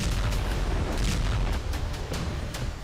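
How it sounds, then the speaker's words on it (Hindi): A missile strike on the Kerch bridge sends out a loud, rumbling explosion: a heavy, broad low roar that fills the whole stretch, with some crackling bursts layered through it and no talking. "हमले के बाद कर्च ब्रिज पर जोरदार धमाके के साथ बारूदी गुबार उठा।"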